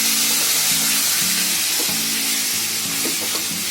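Green paneer gravy sizzling in a pan as it is stirred, a constant bright frying hiss with repeated scraping strokes of the spoon against the pan and no talking.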